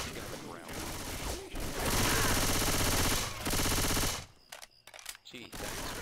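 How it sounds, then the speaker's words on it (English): Sustained automatic gunfire in the zombie shooter Left 4 Dead 2, long loud bursts of rapid shots, then sparser scattered shots, with a voice talking faintly in places. "Gee, thanks for shooting me over and over again."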